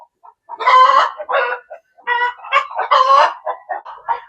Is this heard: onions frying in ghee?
no